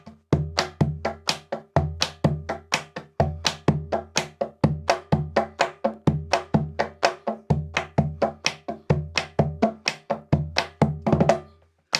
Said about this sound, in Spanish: utilizaba el dedo índice, como les digo, la parte del filo del cajón para que salga el sonido madera